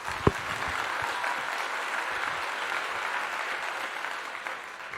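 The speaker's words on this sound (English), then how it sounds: "Round of applause, Howard" Continuous applause on a livestream, a steady, fairly faint wash of clapping with one sharp knock near the start.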